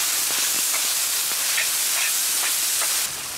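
Chili bean paste fries in hot oil with Sichuan peppercorns and ginger in a wok, a loud steady hiss of sizzling with faint scraping taps, no speech.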